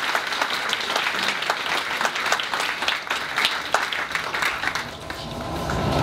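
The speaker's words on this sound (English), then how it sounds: "So let's give them a round of applause for those who have actually taken the time to share." A seated audience at a cancer survivors' film screening bursts into sustained applause, dense overlapping clapping that holds steady for several seconds before thinning slightly near the end.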